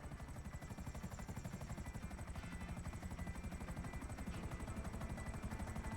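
Helicopter hovering in a video game, its rotor beating in a steady rapid pulse that stays loud and constant throughout with a droning engine underneath; no talking.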